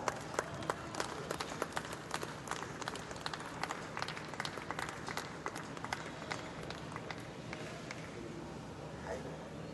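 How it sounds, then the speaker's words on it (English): Audience clapping fills a hall at a business session of a conference in Patna, a dense, steady wash of hands held for the full stretch with a few sharper claps standing out, fairly distant and without any speech over it. "Please welcome the speaker with a clap."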